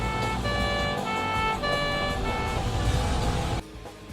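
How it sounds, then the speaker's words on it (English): Police car sirens wail in a racing video game, a loud electronic two-tone siren repeating in regular bursts over engine and traffic noise, then cutting off abruptly near the end. "You just drive past them as if they're part of the general traffic, but they have their sirens on."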